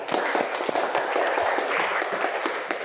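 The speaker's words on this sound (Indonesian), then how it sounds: "Tepuk tangan." Applause from a classroom audience during a teaching performance assessment, a steady patter of many hands clapping at moderate level throughout, fairly close and unbroken by speech.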